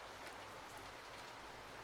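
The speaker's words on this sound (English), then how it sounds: "It's raining, too." Soft, steady rainfall patters in a horror video game, a constant faint hiss of drops on surfaces with no other sounds and no voices.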